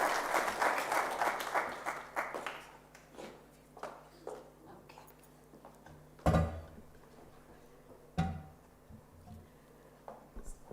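Audience applause welcoming a speaker at a Cyber Week 2024 conference session, a burst of clapping in the opening seconds that thins to scattered claps, followed by a couple of sharp knocks.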